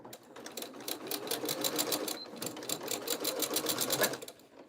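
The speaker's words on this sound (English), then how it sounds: "I might try to use the sewing machine further" A sewing machine runs steadily, its needle clattering in a fast even rhythm, close and fairly quiet, with a short pause partway through.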